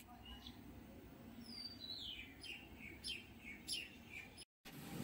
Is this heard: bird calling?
yes